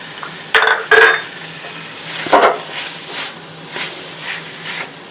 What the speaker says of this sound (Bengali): এটাকেও একটু নেড়ে নিলাম